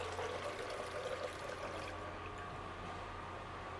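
Water poured into a blender, a faint continuous splashing pour for about two seconds that then thins to a quiet trickle, with low mechanical hum beneath and no voices.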